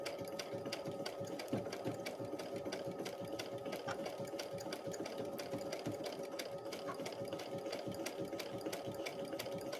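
A sewing machine runs steadily at its slowest speed, stitching a city houses and trees quilt design, with a continuous close mechanical whir and rapid needle ticking for the whole stretch.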